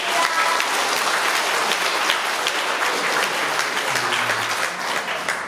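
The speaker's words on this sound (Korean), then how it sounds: "여러분, 큰 박수 부탁드습니다" A large audience at a citizens' innovation forum breaks into sustained, dense applause that stays at an even, loud level throughout as the event closes.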